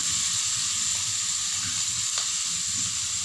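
Ginger and green chilies fry among browned vegetables in a hot pan for a Kerala puli inji dish. A steady, close sizzle and hiss holds throughout, with a light stir or tap now and then.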